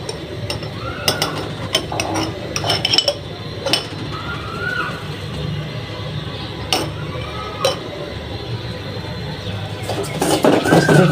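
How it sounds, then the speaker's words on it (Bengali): Semolina frying in ghee in a pan and being stirred: scattered spoon taps and scrapes against the pan over a soft background hiss, close by. "সুজি বসিয়ে দিলাম। এখন ঘি দিয়ে দিব, ঘিটা ভাজে নিই।"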